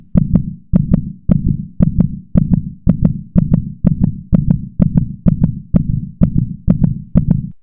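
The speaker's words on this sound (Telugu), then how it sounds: "దాని అరుపుల కంటే నా గుండె చప్పుడు నాకే ఎక్కువ" Heartbeat effect for a ghost story, a loud, close, regular lub-dub thumping repeating steadily about twice a second throughout, alone with nothing else.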